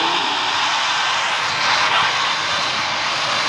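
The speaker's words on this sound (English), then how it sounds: "Okay, now he's taking off." A video game airplane in PTFS (Greater Rockford) takes off with a steady, loud roar of aircraft engines that swells slightly midway. No voices are heard.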